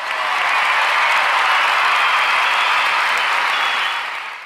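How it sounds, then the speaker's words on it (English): Sustained applause from many clapping hands, loud and dense throughout, swelling quickly and fading slightly at the end. "I applaud. I have to applaud."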